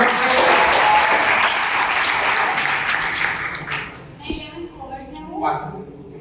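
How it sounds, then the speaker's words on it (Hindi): Students in a school training session clap together in a loud, dense burst that fades out after about four seconds, leaving scattered talk in the room. "वेरी गुड, ताली बजाओ करें।"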